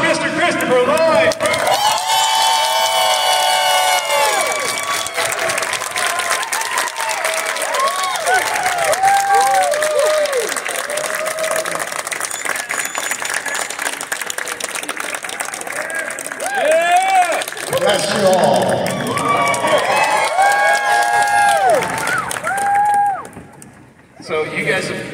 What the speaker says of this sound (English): Please, on your feet, give a big round of applause for Mr. Christopher Lloyd.